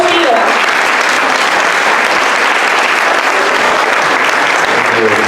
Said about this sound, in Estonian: Aplaus Tiiule